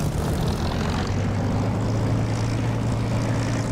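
A Spitfire's propeller engine taxiing toward a runway edge in the DCS flight simulator, a steady loud droning rumble with an even low throb, running alone without talk.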